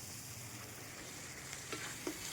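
Chili powder masala sizzles steadily with a little water in a pan, a soft continuous frying hiss with a couple of faint stirring scrapes near the end.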